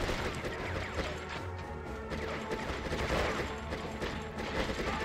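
Dense gunfire in the Conflict: Desert Storm video game on hard difficulty, a steady barrage of shots and impacts layered over battle noise throughout, with no clear pauses.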